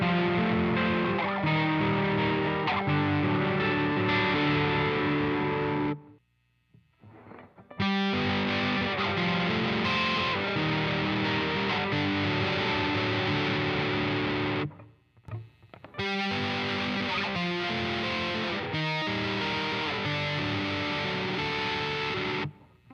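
Heavily distorted fingerpicked guitar notes through a hard-clipping distortion pedal ring out in sustained, saturated phrases, cutting off twice into near silence before resuming at full loudness.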